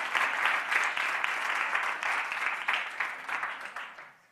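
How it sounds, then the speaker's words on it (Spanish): An audience at a Spanish-speaking fashion school event breaks into steady applause, a dense wash of many hands clapping that holds evenly before gradually thinning and fading out at the end. "Un aplauso para ella."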